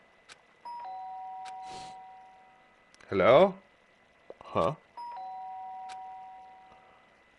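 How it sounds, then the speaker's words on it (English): An electronic two-tone doorbell chimes twice in Danganronpa: Trigger Happy Havoc, each ring clear and sustained, with short bursts of voiced game dialogue between the rings. "The sharp sound of the doorbell pierced my sleepy haze and called me back to the real world."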